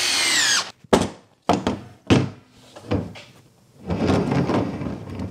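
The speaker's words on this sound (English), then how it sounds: "Gotta pre-drill this stuff." A power drill pre-drills holes in wood for 3.5-inch deck screws on a compost roller stand, several short close whirring bursts with pauses and clunks between them, ending in a longer grinding run.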